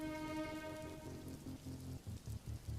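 Steady rain patters down in an animated cartoon, a dense, close hiss with faint tonal notes running through it and no voices.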